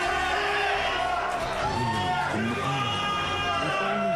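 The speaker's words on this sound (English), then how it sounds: "The crowd going wild for Huebert as we go." Tournament crowd at a Granblue Fantasy Versus Rising top 8 event cheering and whooping at a mid distance, steady and loud throughout, with a commentator talking over it.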